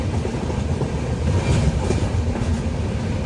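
Onboard the Saraighat Express from Guwahati to Howrah in Assam, a steady loud rumble of the train running on the rails, with faint rhythmic wheel clatter throughout.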